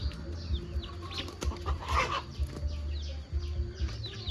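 A single chicken clucks in short, repeated low bursts, fairly close, with faint birdsong and outdoor ambience behind it.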